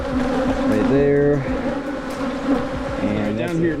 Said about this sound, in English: All the angry bees you see are from number 15.